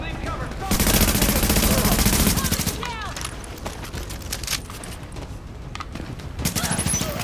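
Mounted turret gunfire in The Division, a loud sustained automatic burst followed by scattered shots and further bursts from nearby, with a voice heard briefly amid the firing.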